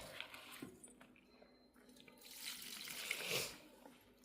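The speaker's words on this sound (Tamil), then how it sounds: "இந்த தண்ணி ஊற்ற போகிறேன் கொஞ்சம் கொஞ்சமாக" Water poured a little at a time onto mixed garden plants, including chilli plants, with soft trickles and splashes that swell near the end; the pouring is fairly faint and no one speaks.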